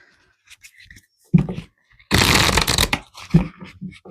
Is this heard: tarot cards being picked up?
yes